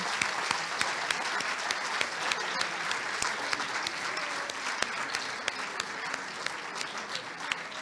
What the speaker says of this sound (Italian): allora applauso, bravo Vittorio